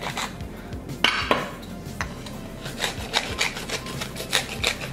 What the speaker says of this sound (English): we'll take my wife's fancy salt and pepper shakers